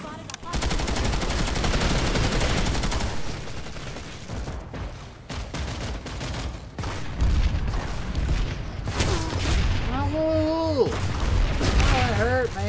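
Planetside 2 firefight with a grenade blast and sustained automatic gunfire, loud and close, bursts rattling continuously while players talk over the chaos.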